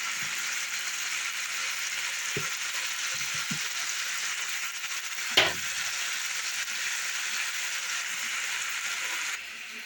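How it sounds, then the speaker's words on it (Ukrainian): Continuous hiss and crackle of sausage frying in a pan, with a few soft utensil knocks and one sharp clink midway. "додала ковбаску, поки ковбаска буде смажитися"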